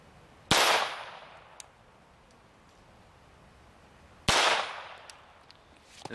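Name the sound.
22 long rifle pistol shots hitting titanium plate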